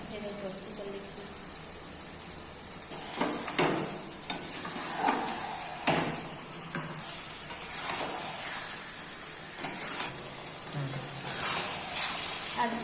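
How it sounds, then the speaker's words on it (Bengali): Chicken leg pieces and potatoes being stir-fried (kosha) in a pan, giving a steady soft sizzle broken by scraping stirs from a spatula, with no talking. "মাংসতে আলু দিয়ে দিলাম, এখন মাংস কষা চলছে।"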